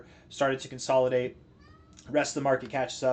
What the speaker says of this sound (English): That's my cat if you guys hear him meowing.